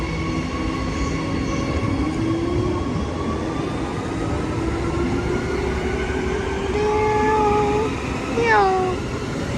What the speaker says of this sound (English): Right, the train's departing.